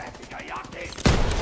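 Gunfire in the World War II shooter Call of Duty WW2 erupts as a sudden loud burst about a second in, following a stretch of quieter background game sound with a faint voice.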